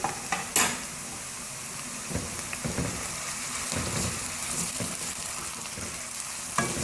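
Onions frying on a medium flame hiss in a steady, even sizzle, close by, with intermittent stirring scrapes and light knocks of a spoon against the pan.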